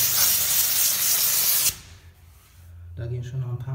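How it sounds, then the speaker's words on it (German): A Kärcher SC4 steam cleaner blasts a loud, broad hiss of steam for under two seconds and then stops, followed by someone speaking. "Nehme ich jetzt den SC4, Kircher SC4 wieder, Dampfreiniger"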